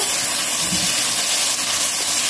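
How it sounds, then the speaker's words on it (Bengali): Prawns and chopped onion fry in a hot pan, giving a steady, loud broadband hiss that continues evenly for the whole moment, with no talking. "অ্যাড করে দিচ্ছি চিংড়ি মাছ, নেড়ে ছেড়ে একটু ভেজে নেব।"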